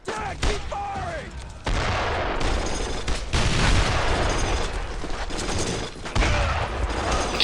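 Dense gunfire rattles almost continuously through a Brothers in Arms: Road to Hill 30 battle, loud and close with overlapping bursts and brief gaps, with shouted voices mixed in.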